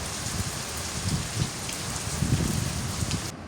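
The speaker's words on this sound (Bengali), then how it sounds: "বাইরে ঝুম বৃষ্টি" Heavy rain pours outside in a dense, even hiss of drops landing on surfaces, at a low, steady level with no talking, and the sound cuts off right at the end.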